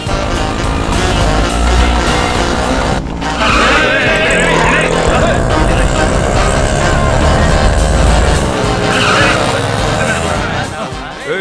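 An auto rickshaw engine hums and rattles under a busy street scene, a continuous motor drone mixed with crowd babble and people talking over it.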